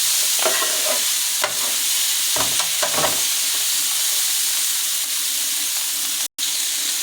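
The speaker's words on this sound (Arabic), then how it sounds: "السجق داخل معايا على السوا كده، نديله برده طماطمتين مقطعين" Sausage and two chopped tomatoes fry together in a pan with a steady, loud sizzle and hiss, while a utensil stirs and scrapes through them in several short bursts.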